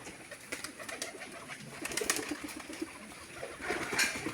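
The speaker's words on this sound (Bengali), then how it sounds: "কবুতর উদ্যোক্তা কবুতরকে খাবার দিচ্ছেন" Pigeons coo steadily at a pigeon farm while they are fed, with soft overlapping calls, occasional wing flutters and a busy flock murmur close by.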